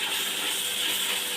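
Mint and coriander leaves sautéing in a hot pan give off a steady, bright hissing sizzle, close and fairly loud for a brief moment.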